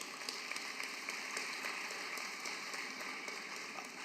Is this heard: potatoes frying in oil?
no